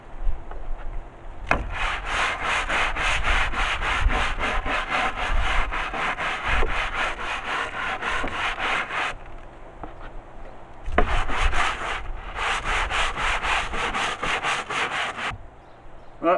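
Steady, vigorous brushing scrubbed back and forth across a wooden surface, with one brief pause partway through, close and fairly loud.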